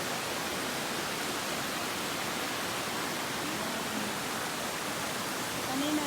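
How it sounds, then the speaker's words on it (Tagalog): Chreav waterfall in Kampong Speu, Cambodia pours with a constant broadband rush of falling water, steady and fairly soft throughout, with no break in the flow. "So, ayan po ang flow na waterfall."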